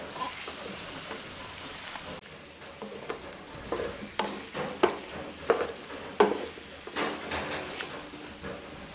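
Small boiled red potatoes fry in a chicken curry, giving a soft bed of sizzle. Clattering stirs and bubbling pops grow busier partway through.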